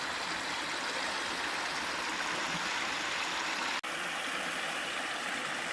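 Continuous wet wash of water sloshing as mucky material is panned, steady and close, with one brief dropout partway through.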